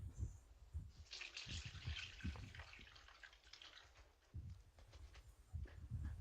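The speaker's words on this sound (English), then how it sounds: "I'm just gonna quickly wash my hands" Tap water runs steadily as hands are washed beneath it, a soft continuous splash with irregular louder bursts, fairly faint and close, recorded while making aloo paratha at home.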